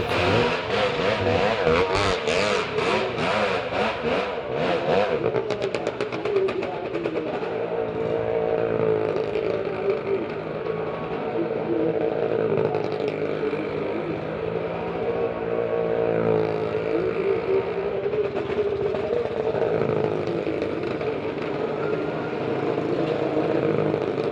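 Engines of vehicles in a well of death show at a village fair roaring and revving continuously, a loud, sustained drone with rising and falling pitch and rapid stuttering bursts early on.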